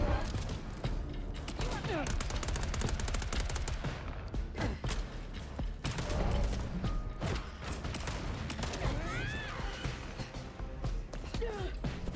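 Rapid bursts of gunfire fill a combat scene in the video game Vampire: The Masquerade – Bloodlines 2, loud and near with dense repeated shots throughout, while voices talk over the shooting.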